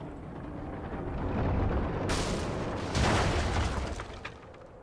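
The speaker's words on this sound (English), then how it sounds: "I'm not sure if an explosion was really necessary, but... Ah, what am I saying? An explosion's always necessary." An explosion in the video game Lies of P: a deep rumbling swell breaks into two sharp bursts of blast noise, then fades with scattered crackling debris.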